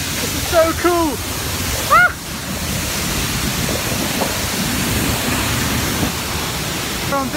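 Steady broadband roar of a waterfall heard from behind the falling water, a loud continuous wash with bursts of voices near the start and brief talking again at the end.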